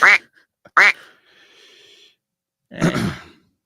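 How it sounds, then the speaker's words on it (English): Duck quack sound effect: two loud, sharp quacks in quick succession, followed a moment later by a rougher, breathier quacking burst, with no talking. "we'll give you some quacks"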